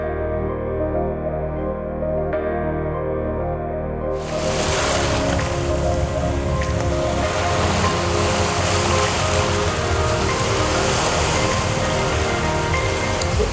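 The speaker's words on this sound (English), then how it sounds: "When the waves come in and then they wash over the shell bed, it's beautiful." Ocean waves rolling in and washing over a shell bed on a shore, a steady loud roar of surf and rushing water that swells and thickens partway through, with no voices.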